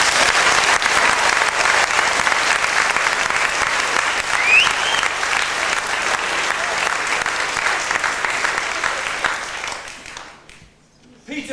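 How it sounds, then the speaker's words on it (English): An audience at a Bowes School production of Peter Pan breaks into loud, sustained applause, steady clapping that fills most of the stretch before fading away near the end. "We'll give her a round of applause."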